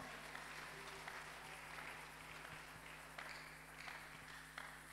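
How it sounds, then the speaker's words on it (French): A church congregation applauds during a pastor's sermon, producing a steady, sustained wash of clapping that sounds fairly distant and subdued, with a few sharper claps standing out. "Applaudissez encore très fort"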